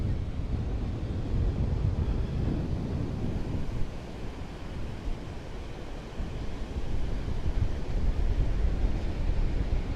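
Atlantic Ocean surf on the south shore of Long Island at Smith Point breaks far offshore under strong wind, making a continuous roaring wash with heavy wind buffeting on the microphone and a brief lull midway.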